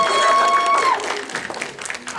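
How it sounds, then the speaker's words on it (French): Applause from a cosplay contest audience for the technical crew, with a short burst of crowd clapping under a host's voice that keeps talking over it. "on applaudit la régie, s'il vous plaît"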